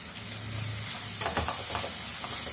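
Turmeric and ginger-garlic paste fry with okra, tomato and onion for a village-style curry, giving a steady sizzle broken by a few scraping stirs of a spoon against the pan.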